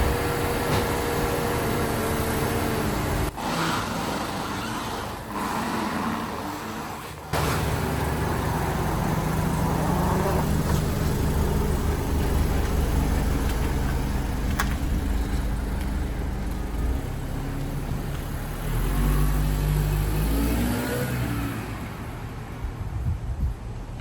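A Mercedes C200 Kompressor engine on a test drive after a stalling and hunting fault was repaired, heard as a steady, continuous interior drone with road noise and a few brief thumps, no voices.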